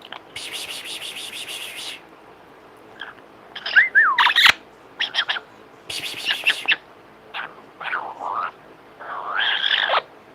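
An Amazon parrot vocalizes at close range with squawky, warbling calls and rising and falling electronic-sounding whistles in short bursts, mimicking a laser sound, while a person talks nearby between the calls.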